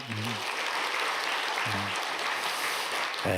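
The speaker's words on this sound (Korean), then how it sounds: "여러분들이 좀 박수로 그렇게 격려해 주시기 바랍니다" A church congregation applauds a newly married couple during a Sunday service, dense steady clapping throughout with a few brief voice fragments rising over it.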